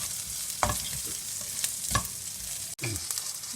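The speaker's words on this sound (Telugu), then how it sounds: "దీన్ని ఫ్రై చేస్తున్నాను." Gongura sorrel leaves fry in a hot pan with a steady, close sizzle. Stirring scrapes and clinks punctuate it every second or so, and no voices are heard.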